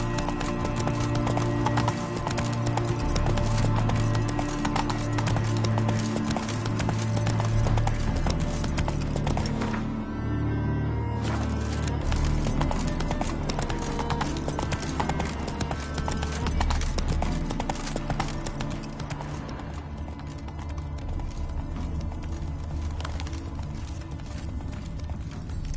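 Horse hooves trot in The Witcher 3 with a steady, continuous clip-clop that stays loud and close for the whole stretch, layered under a dense game soundtrack.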